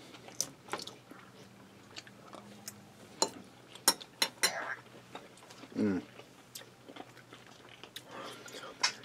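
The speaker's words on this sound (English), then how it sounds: "Hit a crunch of the corn chip" Bites of Instant Pot taco casserole topped with crunchy corn chips, a series of close, sharp crunches and chewing clicks scattered irregularly, with a brief murmur of a voice partway through.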